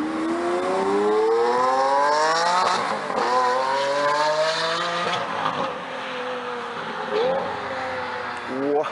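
Several exotic cars, among them a supercharged Shelby Mustang of about 960 horsepower, accelerate hard chasing a Lamborghini Aventador, engines rising in pitch through repeated gear changes with loud, close revving and a brief tire squeal.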